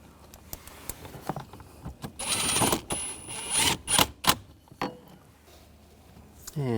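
Screws are driven snug under the dash of a 2015-2020 Cadillac Escalade during a radio control unit swap: scattered close clicks and rattles, then a denser burst of ratcheting, scraping bursts midway before it tapers to sparse taps.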